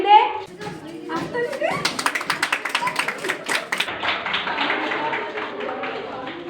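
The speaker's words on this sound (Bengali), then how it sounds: "আরে হাততালি দে।" Several people clap their hands in a fast, uneven burst for a small farewell party ribbon-cutting, the claps loud and close and mixed with children's chatter and voices throughout.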